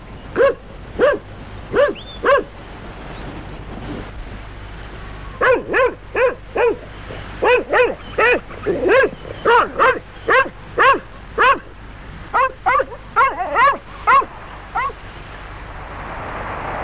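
A dog out in the Australian bush barks in repeated bursts of two to four sharp woofs, loud and close, with a brief whimper early on and short pauses between bursts.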